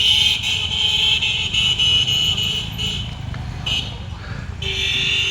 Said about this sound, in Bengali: দেখতে পাচ্ছেন যে বাইকগুলি আসছে